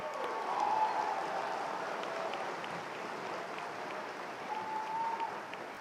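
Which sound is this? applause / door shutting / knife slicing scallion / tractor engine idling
applause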